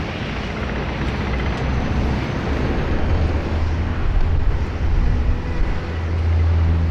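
A Q-Link Dash 8 300 series turboprop departs Sydney Airport, a loud, continuous engine roar that rises and swells slightly as it climbs away.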